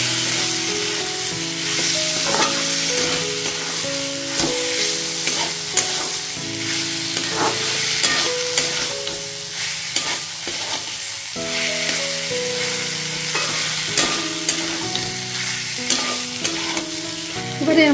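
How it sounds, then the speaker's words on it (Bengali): Fried ivy gourd pieces are stirred into a mixture in a frying pan: continuous loud sizzling with repeated scrapes and clinks of the spatula against the pan. "এবারে আমি ভেজে রাখা কুঞ্জিগুলো দিয়ে দিচ্ছি এর মধ্যে, দিয়ে খুব ভালোভাবে এটা মিশিয়ে নিচ্ছি।"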